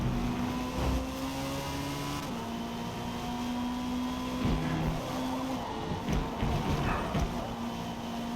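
A Lancia Delta racing car in Forza Motorsport multiplayer holds a loud, steady four-cylinder engine drone. Its pitch steps up and down through gear changes, and a faint rushing of wind runs beneath it.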